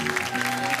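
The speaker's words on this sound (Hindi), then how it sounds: "जोरदार तालियों से स्वागत कीजिए उनका, जिनका नाम है श्रिया पिलगांवकर।" Audience applause greets actress Shriya Pilgaonkar on a TV show stage, loud and continuous clapping from a crowd under a steady tonal background of music.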